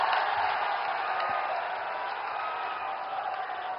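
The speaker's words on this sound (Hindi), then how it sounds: "आपकी जोरदार तालियों के साथ" A large crowd applauds at a Uttar Pradesh event where Prime Minister Modi inaugurates projects. The applause is a steady, dense, distant-sounding wash of clapping that never breaks.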